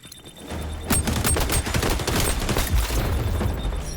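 Rapid bursts of automatic gunfire in the first-person shooter game XDefiant, dense cracking shots with booming low thuds, loud and close, running for several seconds without talk.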